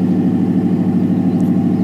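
A 1991 Chevrolet Z71 truck engine with dual exhaust and SLP Loudmouth mufflers idles steadily with a low, even rumble, close and fairly loud, with no other sounds.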